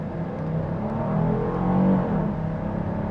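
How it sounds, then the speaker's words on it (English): A 2026 Kia Carnival LXS V6 minivan pulls away at about half throttle in eco mode, a steady interior engine drone that swells gently then settles as it gains speed. "Let's try one out off the line in eco mode."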